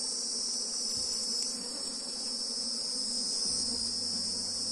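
Honey bees drone and buzz steadily around an open hive during a colony split, a dense continuous hum with high insect whine, close and even throughout with no talking.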